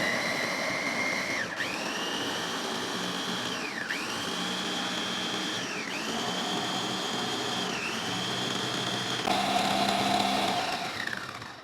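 A SOKANY blender grinds ginger with water into a paste, a steady loud whirring motor with rhythmic dips in pitch every couple of seconds as the load shifts, running alone without talk.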